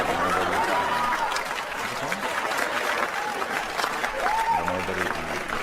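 An audience applauds at length, a dense broadband clatter of clapping that swells and dips slightly while a voice speaks over it.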